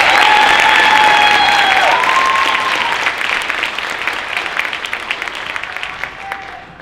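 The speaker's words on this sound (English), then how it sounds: "Let's give one more round of applause to our 12th grade second grade." An audience at a high school senior honors night applauds 12th grade students, loud dense clapping that gradually thins and fades over several seconds.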